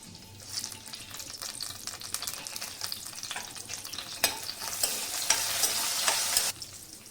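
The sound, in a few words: green chilies and curry leaves sizzling in hot oil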